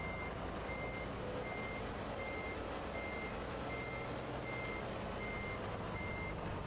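A truck backing up a trailer in Euro Truck Simulator 2 gives steady, evenly spaced reversing beeps, about one per second, over a constant low engine drone. The beeps stay moderately quiet throughout, with no voices.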